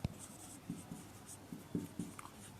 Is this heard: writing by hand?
yes